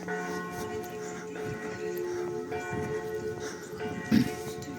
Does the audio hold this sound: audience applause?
no